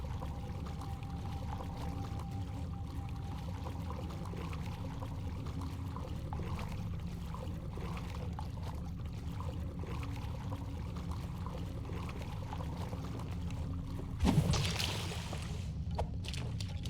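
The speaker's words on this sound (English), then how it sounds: "The valve triggers a rush of water through the pipes" A valve in the Dungeons & Dragons Online game lets a rush of water through pipes, heard as a steady low pouring, gurgling wash with a brief louder splash near the end and no voices.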